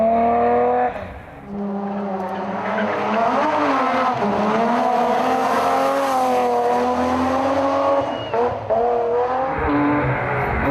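Rally cars at the San Marino Rally Legend drift through a bend, their engines roaring loudly as the tires squeal in a long sustained screech that swells in the middle and then fades.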